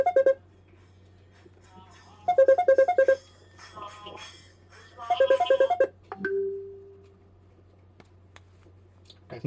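A phone rings for an incoming call, with bursts of a bright, repeating electronic melody separated by gaps in which someone talks, all set against a low steady hum.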